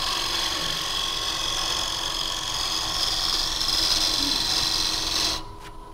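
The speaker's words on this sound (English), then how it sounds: "you can use the gouge here to cut, and it gives you a smoother cut" A gouge cuts walnut turning on a wood lathe, producing a continuous close hiss and scraping whir over the lathe's hum, which stops near the end.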